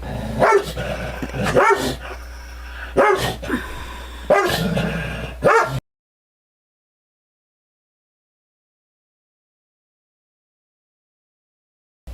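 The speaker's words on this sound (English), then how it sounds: "Woof, woof, woof, woof." A dog barks in several loud, spaced bursts, about four or five sharp woofs over roughly six seconds, then falls silent.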